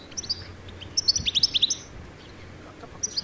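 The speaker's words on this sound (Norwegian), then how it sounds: "en bokstavering av den lyden stillitsen lager når den ute og flyr" A European goldfinch calls outdoors with bright, tinkling chirps, a few scattered notes and then a quick rhythmic run of about eight, heard clearly over faint background noise.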